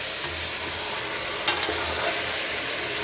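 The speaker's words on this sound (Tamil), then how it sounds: "ஆனால் இப்போ சிக்கன் போட்டோடனே ஹை ஃப்ளேமில் தான் இருக்குது, அடி பிடிச்சிரும். கிண்டி விட்டுட்டே இருக்கணும்." Chicken pieces for biryani frying on a high flame while being stirred: a steady, close sizzle with the soft scrape of the spoon moving the meat, one sharper clatter partway through, and no voices.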